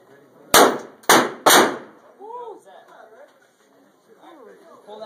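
.44 Magnum revolver fired three times in quick succession, each shot a loud sharp crack with a short decaying tail, followed by quieter talk and light handling noise.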